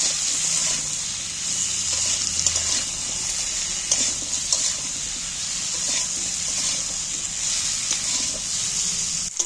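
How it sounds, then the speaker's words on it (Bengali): Potatoes with salt and turmeric are stirred in hot oil, producing a steady bright sizzle with scattered scraping clicks of the spoon, close and continuous. "এইবার আমি একটু একসাথে নাড়াচাড়া করে নিচ্ছি তেলের মধ্যে।"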